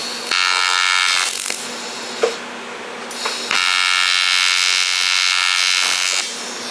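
TIG welding arc on thin metal: a loud, steady electric buzz running for a few seconds, broken by a short pause and a small pop, then buzzing again until it stops.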